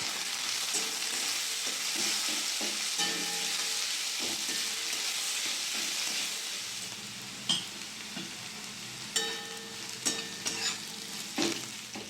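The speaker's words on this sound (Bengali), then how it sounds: "পেঁয়াজটা আমি ভালো করে ভেজে নেব" Steady, loud sizzling of onions and green chillies frying in oil, later broken by a few sharp scrapes and clinks of stirring.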